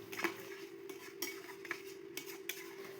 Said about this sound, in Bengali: মশলাটা তেল ছাড়া পর্যন্ত খুব ভালোভাবে কষিয়ে নেব